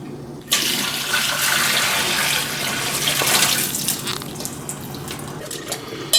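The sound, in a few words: washing food under running water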